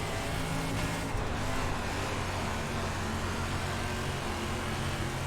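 A dirt late model race car engine in iRacing at Cedar Lake, a loud continuous engine roar with steady drone and broadband noise throughout, no speech.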